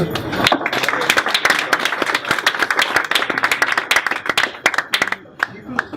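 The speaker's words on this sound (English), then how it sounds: "a big round of applause, please" Conference attendees at a Python talk applaud the incoming speaker with loud, close, rapid clapping that stays dense for several seconds before tapering off, with brief voices mixed in.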